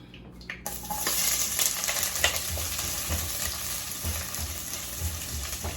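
Onion going into a hot pan for a meat sauce, a sudden onset of loud sizzling after a quiet moment, then steady frying with occasional stirring clicks, no voices.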